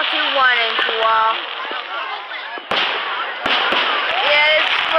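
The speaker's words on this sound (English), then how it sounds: "Today we are watching fireworks." Independence Day fireworks going off outdoors: sharp, loud bangs punctuate crackling bursts, with excited voices chattering over the display.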